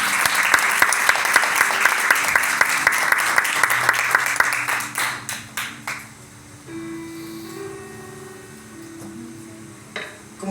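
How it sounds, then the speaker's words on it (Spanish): A church congregation bursts into loud, sustained applause that fades out over several seconds, leaving a quiet room with faint murmurs and a lone tone. "¿Cuánto pueden dar un aplauso a Dios?"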